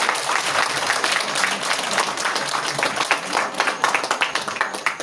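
An audience at a prize-giving ceremony of the International Gita Festival 2024 applauds for the third-place winner, with dense, sustained clapping from a crowd that keeps up steadily and swells toward the end.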